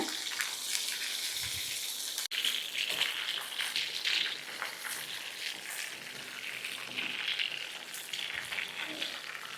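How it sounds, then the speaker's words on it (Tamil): Sliced eggplant, soaked in water before cooking, sizzles and crackles steadily in hot oil in a pan, close and continuous with a brief stir partway through. "இப்போது நம்ம கத்திரிக்காவை எண்ணெயில் சேர்த்துக்கலாம்."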